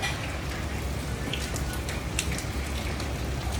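Heavy, pouring morning rain in Japan, a dense steady hiss of downpour with scattered sharp drop impacts spread across the whole clip, no voices.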